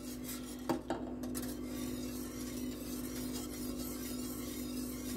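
Soft scraping and clinking of a utensil stirring sugar into a maja blanca coconut pudding mixture in a pot, faint and steady over a low hum, with a couple of brief knocks near the start.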